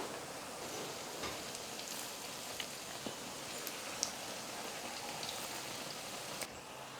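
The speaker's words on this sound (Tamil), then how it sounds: "மாவு தட்டி போட்டதுமே வடை அப்படியே எண்ணெயில் மிதக்குது" Urad dal vadas frying in hot oil, a faint, steady bubbling hiss with scattered tiny pops and crackles, continuous and fairly quiet, no voices.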